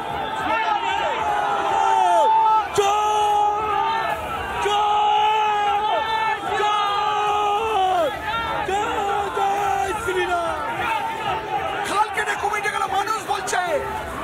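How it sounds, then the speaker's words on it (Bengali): BJP supporters at a protest march shout counter-slogans as a loud, continuous crowd roar fills the space, with chanting voices rising and falling nearby behind a barricade. "বিজেপির তরফে পাল্টা স্লোগান উঠছে"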